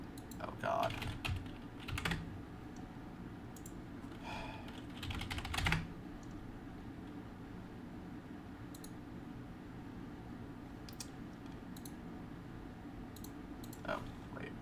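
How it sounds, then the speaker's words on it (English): Rapid computer clicks and key taps from a gaming setup come in scattered bursts, close and fairly quiet over a steady background hiss, with a few sharper clicks near the start and end. "I was clicking the wrong button."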